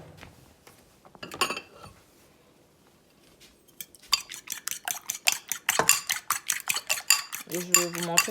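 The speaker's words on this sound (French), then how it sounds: "Je vais mettre de l'huile végétale et je vais faire mes œufs brouillés." Eggs being scrambled in hot vegetable oil in a pan: after quiet clinks, a fast run of sharp, rhythmic utensil scrapes and taps against the pan, loud and close.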